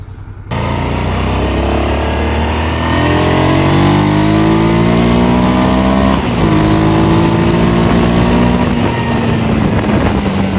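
A Honda 700 Deauville V-twin motorcycle engine revs up loudly and continuously, its pitch climbing through the gears with a brief shift midway, heard close and steady.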